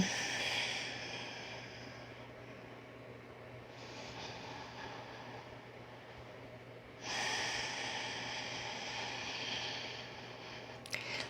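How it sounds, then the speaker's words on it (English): A slow, deep breath in and out during a quiet yoga session, the soft airy breathing rising, easing off mid-way, then swelling again over a steady low hum, with no talking. "Take a deep breath in and out."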